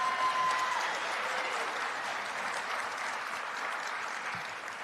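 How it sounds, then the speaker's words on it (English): Audience applause for a keynote speaker at the 37th annual Rev. Martin Luther King Jr. Memorial Breakfast, a sustained crowd of clapping that fades slightly toward the end. "Please give another round of applause to our keynote speaker."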